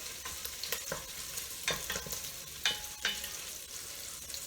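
Sausage browning in a skillet sizzles and fries steadily while a utensil stirs it around the pan, with scraping strokes at irregular intervals and no talking.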